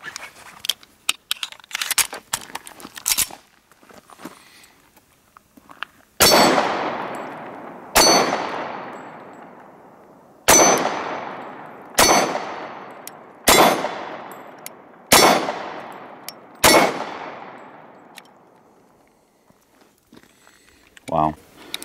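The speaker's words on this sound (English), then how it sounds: "We're gonna shoot it some more today." Sig Sauer Compact Nickel 1911 pistol fired at steel targets: after some early clatter, seven loud shots spaced a couple of seconds apart, each followed by a ringing metallic clang that decays slowly outdoors.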